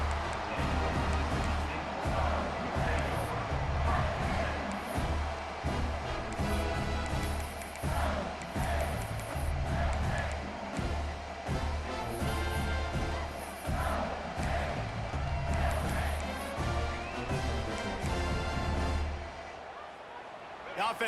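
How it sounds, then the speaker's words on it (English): A home stadium crowd cheers and roars steadily throughout a College Football 26 video game broadcast in a dense, continuous wall of noise that eases slightly near the end. "keeping the home crowd still engaged, still excited"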